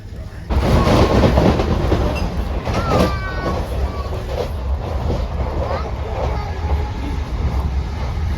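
A moving passenger train rumbles steadily with deep low-frequency roar, rattling carriage noise and squeals from the wheels, loud and continuous from inside the coach, with voices talking faintly under it.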